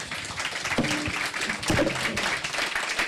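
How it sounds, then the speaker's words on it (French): Brief, fairly thin applause from a conference audience for three panel speakers, scattered claps with a few sharper hits over a low murmur. "On peut les applaudir tous les trois"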